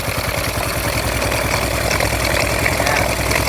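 A Honda motorcycle engine, just rebuilt, idles steadily and loudly close by with an even mechanical rhythm and no voices.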